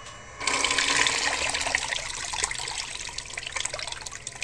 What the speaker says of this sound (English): That one's running like a champ. Completely submerged ESC. Nice whirlpool going on.